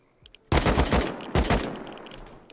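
Close AK rifle gunfire in a first-person shooter game: two loud bursts of rapid automatic shots, the first about a second long and the second shorter, ringing out in a near-silent moment.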